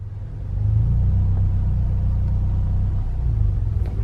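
A manual transmission car engine idles low and rises into a gentle, steady rev as gas is applied while the clutch is released, a close, continuous rumble held under about 1,000 RPM.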